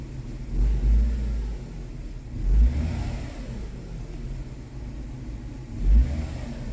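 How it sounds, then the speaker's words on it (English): Kia Sportage with a 2.7 engine running rough with misfires on several cylinders, its low rumbling idle swelling into uneven surges at close range, with no talk. "So I'm letting the car run for a little bit"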